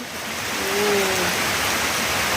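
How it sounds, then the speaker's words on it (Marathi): Rain falls steadily on young planted seedlings outdoors, a continuous even hiss that swells slightly, with a brief faint tonal sound partway through. "आणि ज्वाराचा पाऊस दिसतोय आणि आपण जी रोपं लावली होती ना बघा ती रोपं आता मस्तपैकी भिजत आहे"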